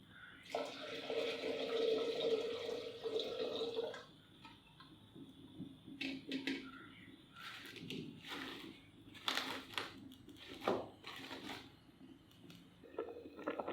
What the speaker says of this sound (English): Add in 2 cups of water to it.